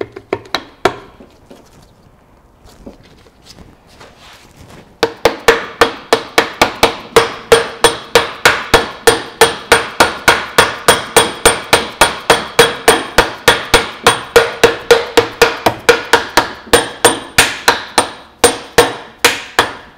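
A bearing retainer is hammered into a Toyota Land Cruiser split-case transfer case. After a few scattered taps comes a long, rapid, even run of loud metallic hammer blows, close and sharp, with no talking.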